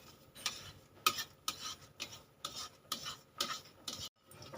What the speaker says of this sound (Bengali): সব দিয়ে দিয়েছি দিয়ে এবার ভালো করে আমি নেড়ে চেড়ে নেব